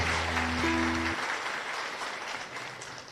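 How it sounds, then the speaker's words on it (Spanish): A congregation at Mass in the San Miguel chapel in Areguá applauds loudly and continuously, with a low sustained tone at the start fading out beneath the clapping. "Y un fuerte aplauso entonces para todos nosotros."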